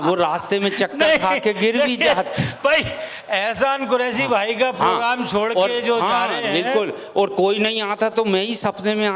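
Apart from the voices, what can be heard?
No everyday noise stands out behind the speech.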